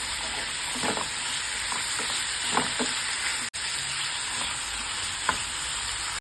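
Onion and tomato fry in a pan, a continuous loud sizzle and hiss with occasional soft stirring clicks and spatula scrapes, no voices.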